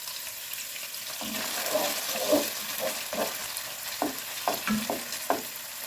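Steady sizzling as a bay leaf fries in a pan, with scattered crackles and light clinks from stirring, close and continuous, no voices.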